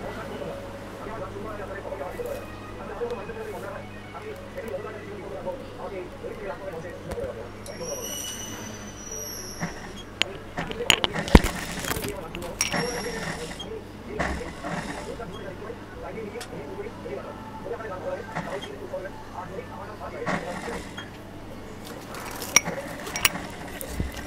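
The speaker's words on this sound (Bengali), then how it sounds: "তো আমি পাইপিনের কাপড়টি সেলাই করে নিচ্ছি।" A sewing machine stitches piping fabric for a child's frock, its soft mechanical whir and rattle running steadily in the background with several sharper clicks and knocks, while someone talks over it.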